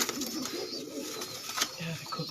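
Pigeons coo softly in a breeder setup of paired birds, low repeated murmuring calls layered with chatter-like bird sounds and faint background voices.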